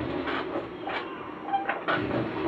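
A train rushes past in the Injustice: Gods Among Us fighting game, a steady broadband rumble with rising whooshes and sharp metallic accents from game effects, fairly loud and without speech.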